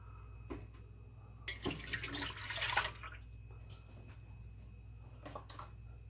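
One cup of milk pours into a bread machine loaf pan, a soft, brief liquid splash lasting about a second and a half amid quiet kitchen background hum.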